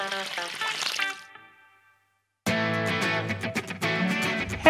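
Water pours and splashes out of an overflowing Tonka toy truck being dumped outdoors by raspberry plants, in two bursts of close, clattering spill separated by a short silent gap.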